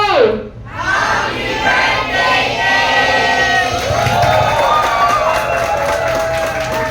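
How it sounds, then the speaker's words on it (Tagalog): Guests at a children's Jollibee birthday party erupt in loud cheering and shouting with clapping mixed in, a boisterous crowd roar that holds strong for several seconds. "isang malakas na palakpakan na may kasamang sigawan sa dulo"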